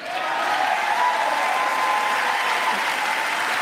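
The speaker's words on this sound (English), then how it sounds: "You got a lot of applause in the room, even from some GOP members there." Loud, sustained applause fills the chamber during the presidential State of the Union address, a dense wash of clapping from a large audience with no speech over it.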